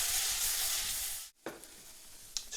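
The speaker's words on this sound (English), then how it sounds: "frying that off a little bit will intensify the flavour of the paprika also" Paprika frying briefly in hot fat in a pan for Bulgarian kapama gives a steady, close sizzle that cuts out sharply partway through, then returns fainter with a few light clinks.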